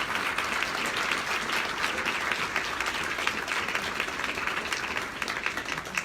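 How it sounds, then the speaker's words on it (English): A banquet audience at an awards night bursts into a long, steady round of applause, many hands clapping together in a busy hall. "Round of applause for every single one of the finalists and the winners tonight."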